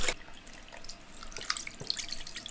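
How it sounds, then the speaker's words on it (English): Water runs from a hotel bathroom tap, a soft continuous splashing and trickling with small drips, fairly quiet and close, with no talking. "Oh, that is some nice warm water."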